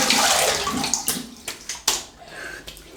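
Water from a tap splashing and rinsing at a sink during a wet shave with a Yaqi adjustable razor, close, with a few hand splashes and drips and no talking.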